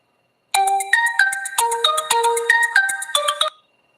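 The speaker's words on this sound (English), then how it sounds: "I put on my ringtone because I want to be picking all your calls" A phone ringtone rings out loud and close, a quick melodic run of bright electronic tones lasting about three seconds between silences, with no talking.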